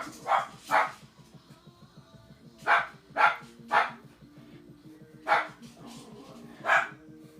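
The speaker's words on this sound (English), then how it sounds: "so that's what Tilly's barking at." A dog barks indoors in a home nail studio, short sharp barks in pairs and singles spread over several seconds, moderately near, with a low background hum.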